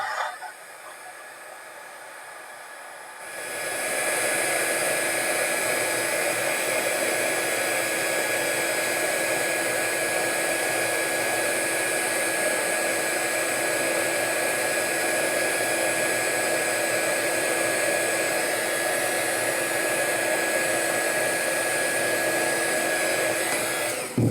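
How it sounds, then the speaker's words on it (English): A heat gun blows over heat-shrink tubing slid onto a repaired wire. A soft hiss is heard first, then the gun kicks on to a loud, constant close-up roar that holds to the end. "Just take your heat gun, just hold it right over it."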